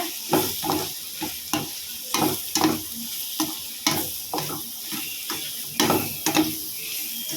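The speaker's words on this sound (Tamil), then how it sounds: "மிளகாத்தூள் சேர்த்து நல்லா கிளறி விட்டுக்கலாம்" A spoon scrapes and stirs chili powder through fish curry masala frying in a pan, repeated rhythmic strokes over a steady close sizzle with no talking.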